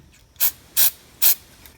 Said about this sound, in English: take some silicone lube and spray the mounting point